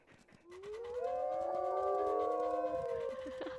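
Wolves in the WolfQuest video game howling together in a long, overlapping chorus of drawn-out tones that swells and holds, heard up close and with no talking.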